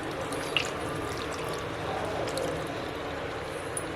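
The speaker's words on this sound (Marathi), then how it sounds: "वाटणाचं पाणी आहे थोडं ते घालते." Ground masala water poured into a pot of chicken curry, a steady wet splashing wash of liquid running throughout with a few faint clinks.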